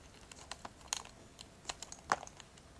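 Small, sparse metallic clicks of a key turning in the lock of a vintage Louis Vuitton Sellier Dragonne bag, quiet and close, with a couple of slightly sharper ticks as the mechanism shifts.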